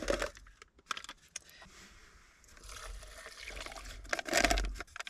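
Liquid poured into a container at a car-camping site, a steady trickling stream with a splashier burst near the end, close by with no talking.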